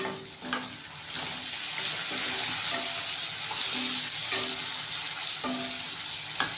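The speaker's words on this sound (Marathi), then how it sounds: "कांदा आपल्याला चांगला लाल झालेला आहे याच्यातून टोमॅटो टाकतो" Onion fries in a pan with a loud, steady sizzle as tomato goes in, with faint clinks of a spoon scattered through the hiss.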